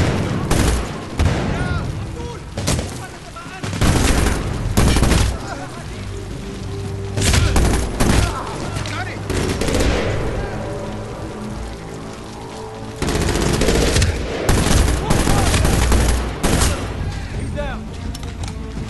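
Repeated gunfire in the video game Medal of Honor Warfighter, with loud, dense bursts of shooting coming in waves, sometimes overlapping with other combat noise.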